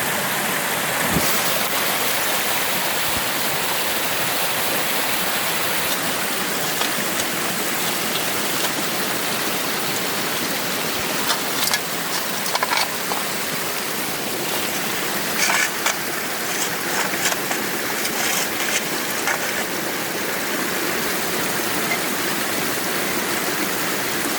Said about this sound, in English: And of course it's got a waterfall.